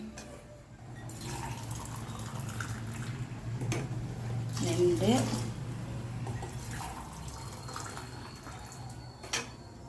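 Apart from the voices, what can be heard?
pouring hot water into pot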